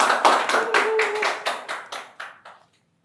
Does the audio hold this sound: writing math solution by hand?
no